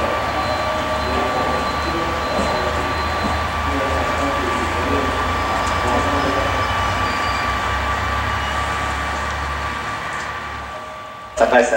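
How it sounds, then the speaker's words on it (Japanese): A Sunrise Izumo sleeper express, a 285 series train, rolls into platform 2 at Yonago Station with a steady low rumble and mechanical hum, a tonal whine over it, ending with a brief louder clunk. "2番乗り場に列車が参ります。"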